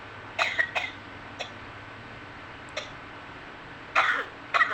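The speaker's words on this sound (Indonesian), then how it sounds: "batuknya muncul" A person coughs in several short bursts, a quick double cough, single ones, then two more pairs, close to the microphone in a quiet room.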